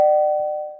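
Doorbell with a single bright chime tone that rings out clearly and loudly, then slowly fades over less than a second.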